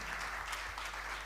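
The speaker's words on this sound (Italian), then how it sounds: "un applauso al nostro Valentino" Dense, steady audience applause at an exhibition opening in Castelfranco, a continuous wash of many hands clapping with no individual claps standing out, brief and fairly even in loudness.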